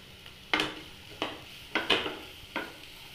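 Chopped green beans are sautéed in a pan during sandwich filling prep, heard as five or six crisp scraping stirs at a steady pace over a faint background sizzle, close and quiet with no talking.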